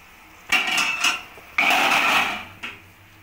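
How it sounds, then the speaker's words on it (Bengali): A lid lifted off a cooking pot of simmering prawn and banana-stem kofta curry, giving a couple of close metallic clanks and scrapes followed by a fainter knock, with no talk. "এবার ঢাকনাটা খুলে দেখে নেব।"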